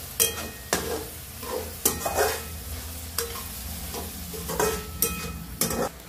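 Tomatoes and onion sauté in a pan for masala egg bhurji, giving a steady close sizzle broken by repeated sharp scrapes and stirs of a spatula, with no voices.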